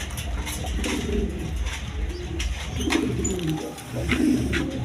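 Fancy pigeons, Banja and Tulip breeds, coo in low, rolling calls that repeat and overlap close by, with faint rustling and no talking.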